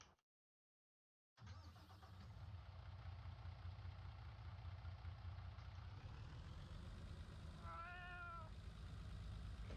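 A cat meows once, a short harmonic call rising over the steady low rumble of an idling car engine, heard after a brief silence at the start.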